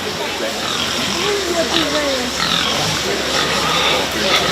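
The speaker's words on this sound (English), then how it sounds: "Pigs weighing between 245 and 254 pounds." Market hogs in the ring at the 2022 Shelby County Fair 4-H swine show, oinking and grunting close by under steady crowd murmur and people talking.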